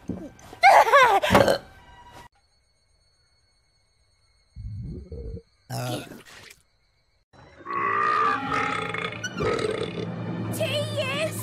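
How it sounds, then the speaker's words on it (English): Female cartoon characters give several loud, drawn-out belches and grunts, with silent gaps between them, followed by a busier stretch of layered burping noise near the end. "I would really like to belch right now"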